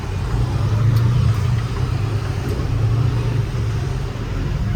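A Kenworth T880 truck driving on a road in Colombia, heard as a steady low engine drone and broadband road rumble throughout, with no voices over it.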